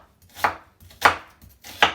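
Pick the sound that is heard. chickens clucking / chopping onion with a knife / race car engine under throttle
chopping onion with a knife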